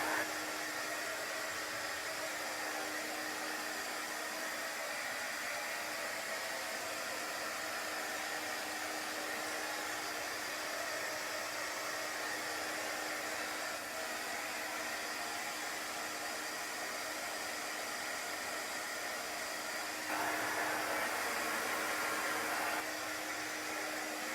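A hair dryer blowing steadily for a long stretch, used to dry wet chalk art. Its even whooshing hiss and faint hum hold without pause, and the airflow tone shifts briefly near the end.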